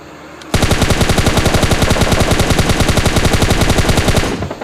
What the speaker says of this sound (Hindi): तो यहाँ पे मैं रैंडम फायरिंग करता हूँ